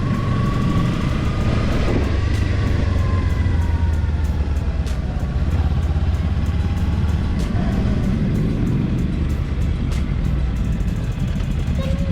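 A Kawasaki Ninja motorcycle engine on a ride with friends: a steady, loud, continuous engine roar mixed with road and wind noise, close and unbroken throughout with no talking.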